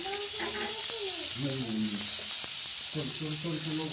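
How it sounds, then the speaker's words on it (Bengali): Chopped onion sizzles in hot oil in a home kitchen, a loud, steady, close hiss that runs unbroken throughout while a person talks over it. "এখন তেলের মধ্যে পেঁয়াজ কুচিটা দিয়ে দেবো।"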